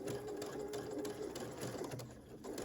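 A sewing machine stitches with a blind hem foot, a quiet, steady mechanical whir with rapid needle ticking heard faintly and close, with no talking.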